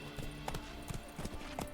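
Horse Roach's hooves clip-clop in an uneven trot across the ground in The Witcher 3: Blood and Wine, several distinct near strikes over a steady background bed.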